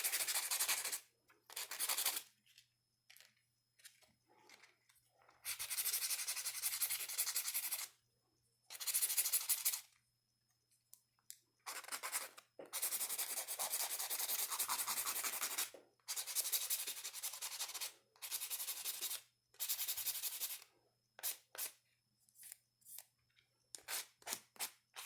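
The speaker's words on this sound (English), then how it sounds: "let's buff this up real good" Dip powder nails are buffed with a nail buffer in close, loud bursts of scratchy rubbing, repeated strokes separated by short pauses, with no one talking.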